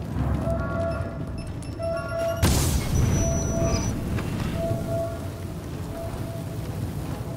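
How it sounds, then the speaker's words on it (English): Emergency fire suppression sprinklers in The Division burst on with a sudden loud whoosh, then spray in a steady rain-like hiss, under repeating electronic alarm tones and beeps. "Emergency fire suppression system activated."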